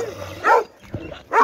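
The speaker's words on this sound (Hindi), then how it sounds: "अजे मगर जिहड़ा ना कुत्ते लग गए ने" Dogs chasing along a road, giving two sharp, close barks with a softer yelp between them.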